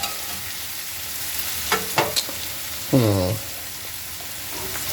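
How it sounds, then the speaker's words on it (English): Onions caramelizing in a new pan, giving a steady close hiss throughout, with a few utensil scrapes and a brief voice near the middle. "We're gonna caramelize these onions a little bit"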